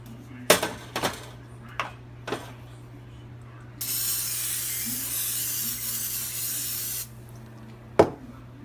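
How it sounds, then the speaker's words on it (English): Canola oil cooking spray hisses from a can in one steady, close burst lasting about three seconds, set among a few sharp clicks and knocks before and after. "0 trans fat per serving canola spray"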